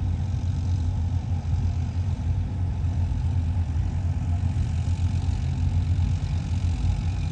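A 3630 tractor engine runs on a farm, giving a steady, loud, low diesel rumble that continues without pause for the whole stretch.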